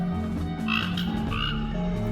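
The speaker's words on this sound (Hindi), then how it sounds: "ये आवाज़ होती है मेंढक की" Many frogs croak together as one dense chorus, continuous and layered, with rhythmic pulsing calls over a steady background drone and no talking.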